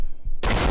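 A single loud gunshot blast in Fallout New Vegas, a headshot, erupting abruptly after a quiet moment and ringing out broadly until the end.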